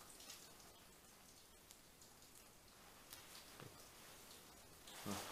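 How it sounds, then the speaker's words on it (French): Steady rain falls with constant water drops pattering on surfaces, faint and continuous throughout, with a few slightly louder drips near the end and no one speaking. "vous allez entendre de l'eau en permanence tomber, c'est parce qu'il pleut"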